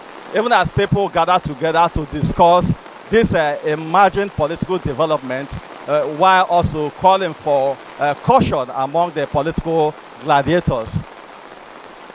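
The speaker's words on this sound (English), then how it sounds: "So sorry for the rain there." Steady rain falls during an outdoor television news report from Port Harcourt, a soft continuous hiss running beneath a reporter's nearly unbroken speech for the whole stretch.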